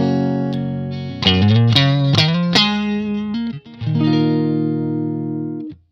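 An electric guitar plays a clean tone through a Mesa Boogie JP-2C John Petrucci signature amplifier, with soft highs, ringing chords and single notes, sustained, loud and close, with no talking.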